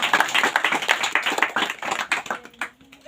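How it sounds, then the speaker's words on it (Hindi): A church congregation claps hands in quick, rhythmic unison, loud and close, thinning and tapering off toward the end. "क्या आप ताली नहीं बजाएंगे?"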